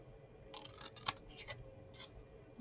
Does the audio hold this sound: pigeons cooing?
no